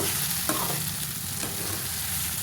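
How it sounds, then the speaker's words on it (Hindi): Okra frying in a pan with spices for dhaba-style bhindi, giving a steady, close sizzle with faint stirring scrapes throughout. "तो अब हम इसमें उसको फ्राई करते हैं।"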